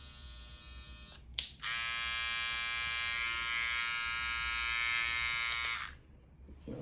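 A Compact Low Pro hair trimmer buzzes steadily at close range for about four seconds after a brief click, then cuts off, with no talk over it.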